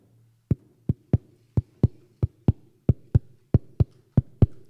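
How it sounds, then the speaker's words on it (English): Powwow drum struck in a steady beat, about a dozen deep booming hits at a regular pace, each sharp and resonant, loud and close over faint low background, with no talk. "the reason why the drum is this first circle is because of this beat."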